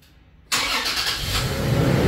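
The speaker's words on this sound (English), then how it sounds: "Start the car." A 2023 Toyota 4Runner SR5's engine starts. Half a second of quiet gives way to a sudden loud crank and catch, then a steady, close engine rumble that builds slightly as it runs.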